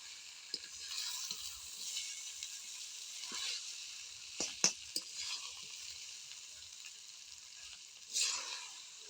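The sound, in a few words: vegetables and flattened rice stirred with a spatula in a wok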